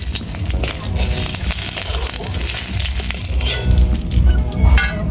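A dried red chilli and panch phoron hit hot oil with a loud, steady spitting sizzle that stays dense and close throughout, with bursts of crackle and no voices.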